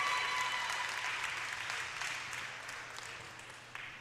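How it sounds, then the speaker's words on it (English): An audience at a high school Valentine's Queen crowning applauds, a full, even round of clapping that slowly tapers off toward the end. "Please join me in giving our queen another round of applause."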